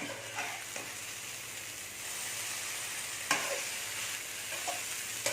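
Cooked idiyappam rice noodles being stirred and tossed with sesame oil, a soft continuous scraping and shuffling with a few sharper clicks of the spoon against the vessel, close and steady.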